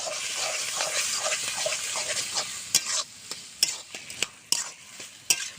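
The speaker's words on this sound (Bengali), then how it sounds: "2 চামচ ঘি দেব। আর একটু গরম মশলার গুঁড়ো দেব। সুন্দর করে মিশিয়ে নেব।" A banana flower curry with paneer, ghee and garam masala is stirred in a pan, a soft sizzle running under spoon scrapes that give way to sharp, separate clinks of the utensil against the pan.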